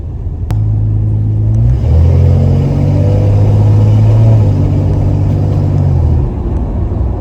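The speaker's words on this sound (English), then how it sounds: "I'm gonna race this RAV4." A 1969 Plymouth Barracuda with a 225 engine accelerates hard while racing a RAV4, a loud, close, sustained engine rumble rising in pitch through gear changes.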